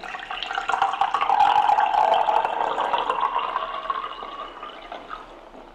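Hydrogen-infused water poured from a bottle into a container, a continuous close liquid stream that swells, then gradually thins and quiets over several seconds, with no talking.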